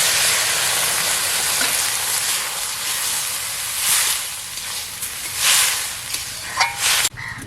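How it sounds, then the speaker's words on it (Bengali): Water is poured into a pan of simmering rohu fish curry with turmeric, giving a broad hissing sizzle that swells and fades in waves, with a few sharper bursts near the end. "হলুদ দিয়ে জল ঢেলে দেবো"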